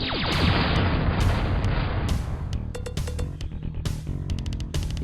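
Vulcan cannon firing in Descent, amid a booming explosion-like rumble at first, then rapid sharp bursts of gunfire in short clustered volleys, loud and close, without any speech.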